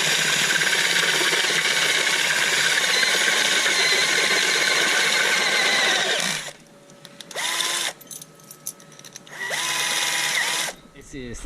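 A power drill whines loudly and continuously, enlarging a hole to M8 while fitting a Lowbrow Customs Gasbox sissybar, then stops and restarts in two shorter bursts with spin-down pitch changes.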